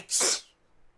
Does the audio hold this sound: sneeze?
yes